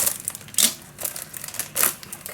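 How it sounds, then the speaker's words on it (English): A packaged item being unwrapped: crisp crinkling and tearing of wrapping in several close bursts, with no talk. "Let me unwrap this."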